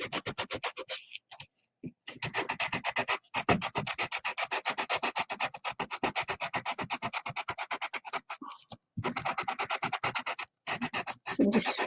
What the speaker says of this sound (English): I'm just scuffing up the surface there to maybe help it stick together to the other head.